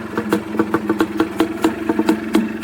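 A rebuilt Yamaha Blaster ATV idles low and uneven nearby, its engine putting out a steady loping pulse of regular firing beats.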